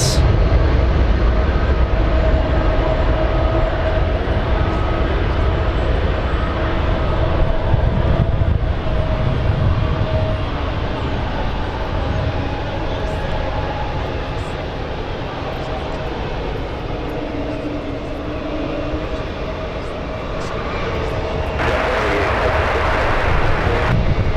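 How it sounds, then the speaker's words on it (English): A Delta Boeing 737 airliner lands at San Francisco International Airport, a loud steady engine roar and rumble that fills the whole stretch with a slight swell toward the end; a voice talks faintly over it. "Delta 737 landing"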